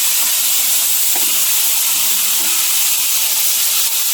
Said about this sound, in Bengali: পটল ভাজবো, তেল দিয়ে দিয়েছি, সাদা তেল।